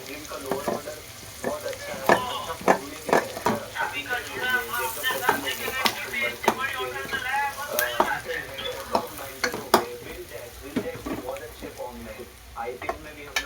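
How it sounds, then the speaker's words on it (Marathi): Guava vegetable fries in a pan as crushed peanuts are added and stirred in, with a steady sizzle under repeated close scrapes and clinks of a spoon against the pan. "आता शेंगदाण्याचे कूट जात आहे."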